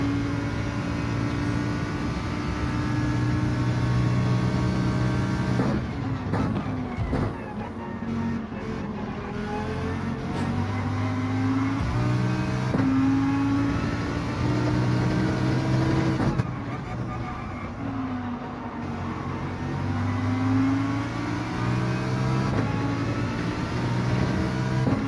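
A Gr.4 race car's engine in a video game race at the Nurburgring GP circuit, droning steadily and loudly throughout with shifting pitch as the revs rise and fall, plus a couple of brief changes in tone.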